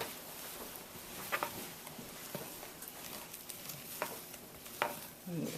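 A spoon gently folds buttermilk pancake batter in a bowl, giving soft, wet, muffled strokes at an irregular, unhurried pace, quiet and close with a faint background hiss.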